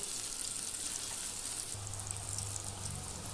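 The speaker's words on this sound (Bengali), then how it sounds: "ধোকাগুলোকে আমি এবার এই তেলের মধ্যে ভেজে নেব" Lentil cakes (dhoka) fry in hot oil in a kadai, a soft, even sizzle heard close and alone, with a low bubbling tone entering partway through.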